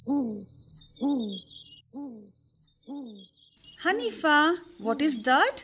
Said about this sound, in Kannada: That is on owl.